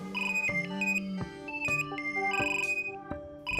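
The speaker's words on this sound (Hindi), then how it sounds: "फोन बज रहा है।" A phone ringtone plays loud and close indoors, a repeating electronic melody of bright tonal notes in short phrases, with no one talking over it.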